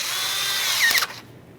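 A power tool drives a new band hose clamp tight during a crankshaft position sensor job on a 2011-2020 Toyota Sienna, a close, steady whir that ends after about a second with a brief clatter, then quiet.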